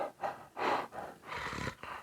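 A person draws breath with a pressed, constricted throat, making the rasping guttural hiss of the Hebrew letter chet, repeated in several short breathy bursts up close.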